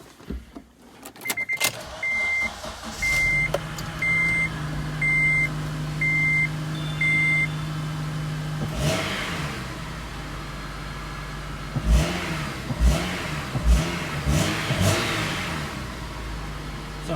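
Honda Element engine idles steadily, with a string of short electronic beeps early on, then a few revs rise and fall near the end, close and fairly loud.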